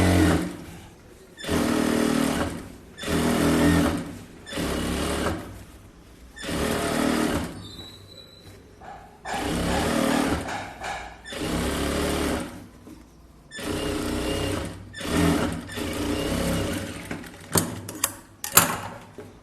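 A tailor's sewing machine straight-stitches a blouse hem in a series of about eight loud, close bursts, each a few seconds long, separated by short pauses.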